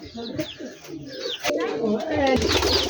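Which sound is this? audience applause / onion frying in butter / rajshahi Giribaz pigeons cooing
rajshahi Giribaz pigeons cooing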